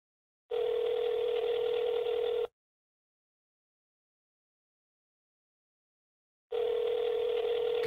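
A telephone dial tone for a phone call sounds loud and steady for about two seconds, then cuts to silence before returning after a long gap.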